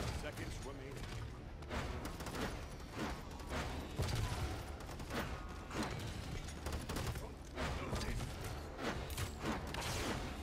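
Rapid gunfire in the Paladins video game, dense overlapping shots and bursts firing almost nonstop at close range, with a voice talking over the action throughout.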